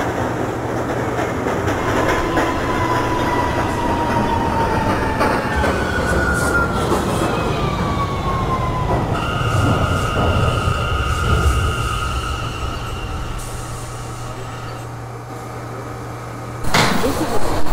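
An R179 subway train on the J local line in the OpenBVE train simulator game rolls along with a low motor hum and rising and falling whine. Steady tones sound midway, and a sharp burst comes near the end.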